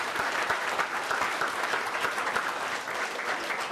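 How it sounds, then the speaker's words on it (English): Steady applause from a banquet audience at a high school fall sports banquet honoring football, cheer and dance teams, a dense, even clapping that holds for a few seconds with no voices over it. "How about a nice round of applause?"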